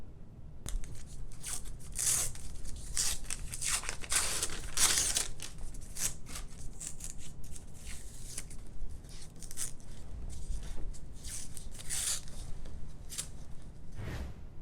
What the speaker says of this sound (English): let's go ahead and peel the paper away